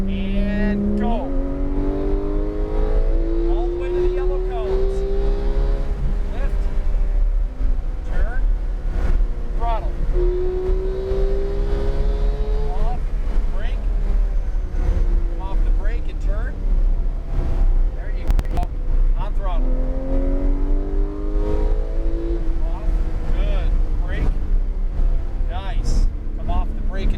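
On a race track, the engine of a Porsche 911 GT3 climbs through rising revs over and over as the car accelerates through the gears, steady and loud under wind noise, with an instructor talking throughout.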